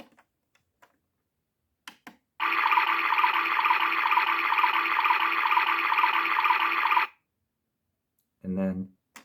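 A PlayGo Laundry Set toy washing machine runs for about four and a half seconds with a steady, loud electronic whirring tone, starting and stopping abruptly, followed by a short electronic beep; faint clicks come before it.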